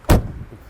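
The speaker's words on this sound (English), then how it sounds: "Totally bank vault sounds, right? Like when you close these doors" A heavy door on an old-style classic car slams shut with one loud, solid, vault-like thud, and a low rumble trails off afterward.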